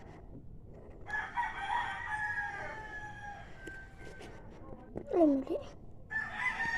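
Roosters crow in the background, with drawn-out calls rising and falling, one louder crow near the end, and some clucking. A person talks quietly nearby between the calls.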